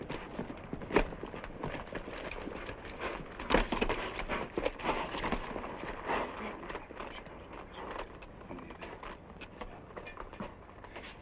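Horse hooves clip-clop on the ground in a 1950 classic western, a loose uneven run of thuds and clacks at moderate distance, loudest in the middle and thinning out toward the end.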